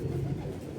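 A pigeon gives a brief, low coo close by, soft and throaty, lasting under a second.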